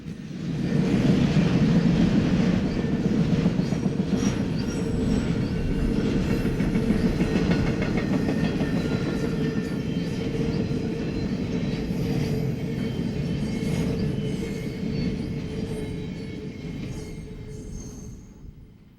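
An intermodal freight train loaded with J.B. Hunt and Snyder National trailers rolls past close by. A steady heavy rumble and clickety-clack of wheels carry on for the whole pass, then begin to fade at the very end.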